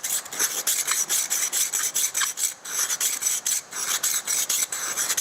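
Fired metal work with a lid and gallery is rubbed with silicon carbide, giving a steady rasping scrape in quick back-and-forth strokes, close and continuous with no talk.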